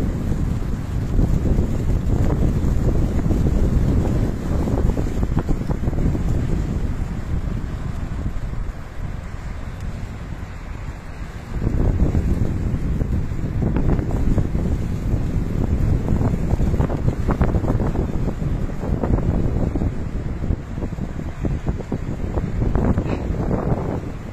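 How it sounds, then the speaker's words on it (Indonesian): Strong wind buffets the microphone at a Jakarta–Bandung high-speed railway construction site where a Kometto tandem launcher is working, a loud continuous roar that eases around midway and then surges back. "Angin sangat besar, mudah-mudahan tidak mengganggu audio."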